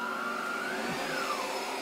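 A Miele Triflex HX1 Pro 3-in-1 cordless vacuum cleaner runs steadily with a continuous close whine whose pitch drifts slightly, heard alone without voices.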